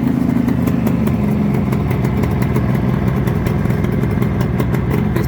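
A rebuilt 1976 Suzuki GT750A motorcycle engine runs close and loud, with a steady, unbroken clattering drone and no talking.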